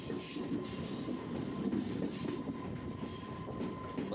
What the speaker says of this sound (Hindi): ये मेन लाइन प्लेटफॉर्म नंबर 1 पर जाती है हमारी ट्रेन